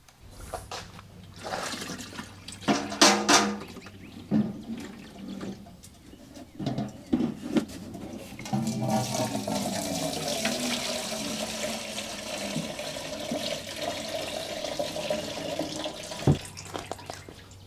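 Coolant pours and gushes out of a lathe coolant tank into a container, with a few knocks and clunks early on, then a sustained rushing flow up close.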